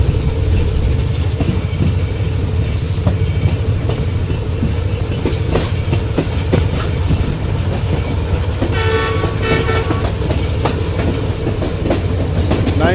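Green Line passenger train 9051 runs steadily on its rails, giving a loud, continuous rumble with rhythmic clickety-clack, a horn sounding midway and brief squeals from the wheels, with no talking.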